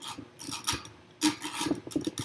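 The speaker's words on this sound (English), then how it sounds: "I've got a regular twist drill in here that we could use to drill a hole as well" A hand drill turns a twist drill bit into a hole in a CO2 car body, giving a close, rasping, ratcheting grind in uneven bursts, louder in the second half.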